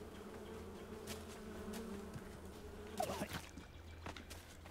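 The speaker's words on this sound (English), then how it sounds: "Are the bees gonna like attack me?" Bees buzz in a video game, a soft continuous drone with brief scratchy rustles and taps over it, faint and without talk.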